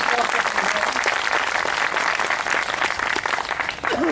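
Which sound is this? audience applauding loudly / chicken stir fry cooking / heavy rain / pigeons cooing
audience applauding loudly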